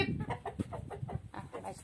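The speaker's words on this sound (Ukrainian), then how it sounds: "Він слідить за курями. Він їх і заводить, і виводить з сараю." Chickens clucking inside a farm shed, a steady run of close, overlapping clucks and short calls with a low rumble of the flock beneath.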